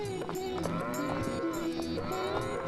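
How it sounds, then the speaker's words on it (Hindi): A pair of bullocks lowing in a long, steady, resonant moo that fills the whole stretch, the deep voiced tones holding and wavering without a break. "उसने 2 बैलों की एक सुंदर जोड़ी खरीदी।"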